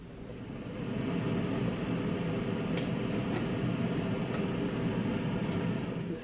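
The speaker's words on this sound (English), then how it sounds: "Okay, this one is Brown Noise." Steady, deep brown noise: a continuous low rumbling hush that fades in and then holds evenly, with no talking.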